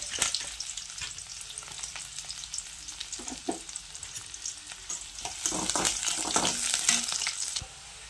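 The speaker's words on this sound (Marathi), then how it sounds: "कांदा, मिरची, आलं लसूण पेस्ट आणि कढीपत्ता। आधी हे सर्व आपण तळून घेऊ व्यवस्थित।" Onion, green chilli, ginger-garlic paste and curry leaves fry in hot oil, giving a continuous close sizzle with stirring scrapes that swells louder near the end before easing off.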